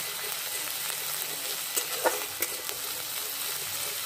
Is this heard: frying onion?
yes